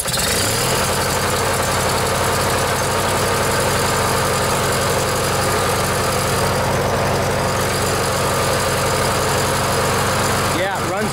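A Briggs and Stratton opposed twin cylinder engine running after a carburetor rebuild, a loud, steady, close idle with continuous rumble and mechanical clatter, ending with a short break near the end.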